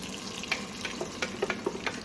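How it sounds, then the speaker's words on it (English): Blended pepper is poured into a pot for oxtail stew sauce, a soft liquid stream with scattered splashy drips and light sizzling spatters, fairly quiet and without talk. "and then we're gonna pour this in"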